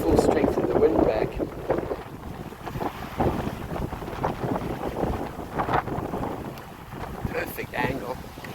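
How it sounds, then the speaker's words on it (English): Strong wind gusts buffet a 14'6 gaff-rigged boat cruising off Greece, a rough continuous rush of wind noise with knocks and water sounds, loud throughout. "Full strength of the wind back."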